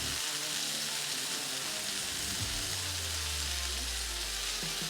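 Beef meatballs of two to three ounces sizzle steadily on a hot Ninja FlexFlame griddle, a close, even frying hiss that runs throughout with a low hum underneath and no talking.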